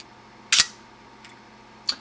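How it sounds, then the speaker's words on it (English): A 110 film camera's shutter release fires with one sharp, close mechanical click, followed by a fainter tick and a second small click. "press the shutter release and see if it actually functions"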